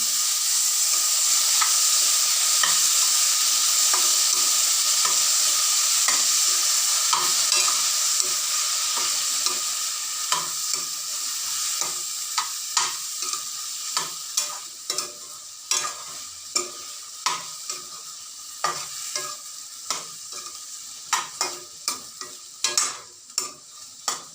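Capsicum and tomato cook in oil in a pan for tawa pulao, a loud steady hiss at first that gives way to rhythmic scrapes and taps of a spoon stirring against the pan, growing more frequent.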